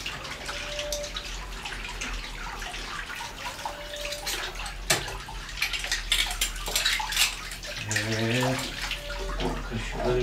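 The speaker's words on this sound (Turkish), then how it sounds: "Kaşıkları duruladık." Spoons rinsed under a running tap, with steady water flow, clinking metal and splashing close by throughout.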